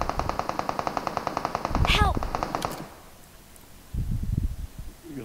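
A teammate fires an automatic weapon on the Livik map in PUBG Mobile. A rapid, evenly spaced burst of many shots ends in a louder crack and a ringing tail, and after a short quiet gap some faint rustling follows.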